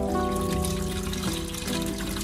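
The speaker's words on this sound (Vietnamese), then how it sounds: "có cái ống này để xả nước giun ở đường phía dưới ra luôn" Liquid from a worm farm drains out of a pipe tap on a farm in Australia, a steady close trickle and splash that runs continuously without talk.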